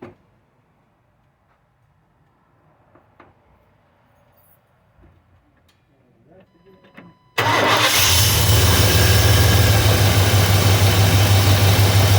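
After quiet ticking and faint clicks, a 1995 Chevy engine with a replaced intake manifold suddenly fires up and settles into a loud, steady idle close by.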